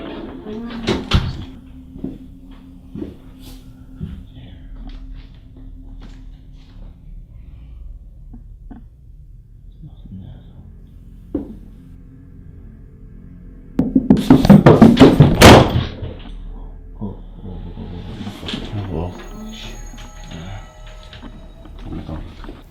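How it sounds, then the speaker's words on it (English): Nearby footsteps and a door closing inside a house, scattered soft knocks and taps followed by a louder cluster of thumps and a closing bang midway, then quieter shuffling. "The sound of the closed footsteps along with the door closing right next to him is bound to keep anyone up at night."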